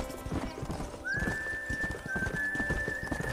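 A horse in Red Dead Redemption whinnies with a long high neigh over steady clip-clopping hooves, close and fairly clear.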